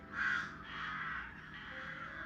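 Big, loud crows cawing as a sound effect during a Dungeons & Dragons tabletop session, one harsh call up front followed by more rasping caws blending into a continuous noisy backdrop.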